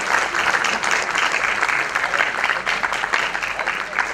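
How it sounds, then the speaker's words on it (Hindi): Loud, dense applause fills a hall at an awards ceremony as guests are welcomed, sustained and even throughout. "जोरदार तालियों से स्वागत करें"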